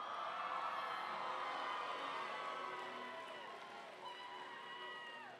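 A crowd in a big arena cheers for the Blue Alliance at an FRC robotics district event at UNC Pembroke, a sustained roar of voices and whoops that slowly tapers.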